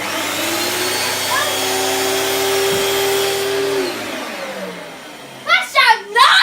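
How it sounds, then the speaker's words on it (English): An 1980s US-model Hoover Spirit S3261 upright vacuum cleaner with a Quadraflex Powermatic head runs steadily with a constant motor drone, then winds down as it is switched off, followed by a few loud bumps and rustles. "This is a US Hoover Spirit."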